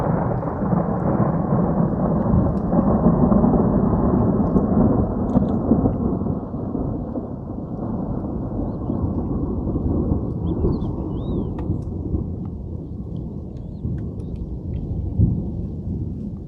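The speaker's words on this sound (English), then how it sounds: "Big rumbles of thunder." Deep thunder rumbles roll on continuously through a dark evening thunderstorm, loud and sustained, with only a little rain and no voices.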